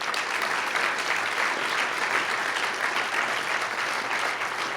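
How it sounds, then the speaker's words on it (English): An audience at a preaching gathering bursts into steady, dense applause, a continuous wash of clapping hands that stays even in volume throughout. "That deserves a round of applause."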